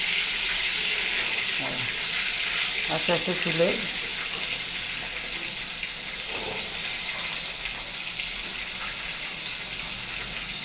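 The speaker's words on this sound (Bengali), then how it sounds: "দেখো, চিংড়ি মাছগুলো এইরকম ভাজা হয়েছে" Shrimp frying in hot oil for a pointed gourd and shrimp dish, giving a steady, close sizzling hiss throughout, with a brief stretch of speech over it.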